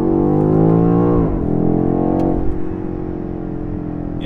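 A 2020 BMW X6 M Competition accelerates hard, its engine note loud and close, dropping as gears are shifted down with the paddles, then climbing again in a smooth, strong rising drone.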